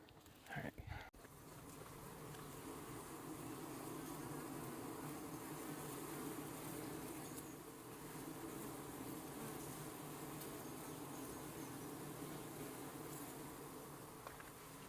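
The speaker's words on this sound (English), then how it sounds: "Found a beehive. Sounds very alive." A live beehive in a canyon hums with dense, continuous buzzing of many bees, steady and loud throughout after a brief knock or rustle at the start.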